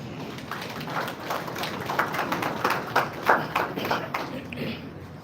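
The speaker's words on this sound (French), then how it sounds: "Vos applaudissements, s'il vous plaît." An audience at a funeral applauds in a loose, moderate patter of clapping that swells slightly in the middle and then thins out, with some low murmuring underneath.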